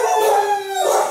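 Dog at an animal shelter giving a drawn-out howling bark, a single tonal wail lasting about a second, close and loud with no talk.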